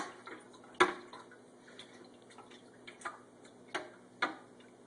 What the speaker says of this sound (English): I'm just going to go ahead and stir it up.